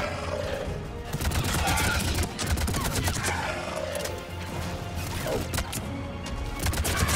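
Gunfire from the video game Mass Effect 3 comes as dense bursts of shots and impacts mixed with game noise throughout, loud and continuous, with occasional voices in the background.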